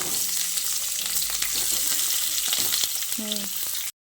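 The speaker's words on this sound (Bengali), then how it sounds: "তেলটাকে ভালোভাবে গরম করে নিয়ে এবার যে আলুগুলো আমি কেটে রেখে দিয়েছিলাম সেই আলুগুলো এর মধ্যে দিয়ে দিচ্ছি।" Cut potatoes dropping into hot mustard oil in a wok, a loud continuous close sizzle with stirring scrapes and a spoon clink near the end before it cuts off, no voices.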